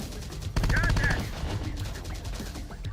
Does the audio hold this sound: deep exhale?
no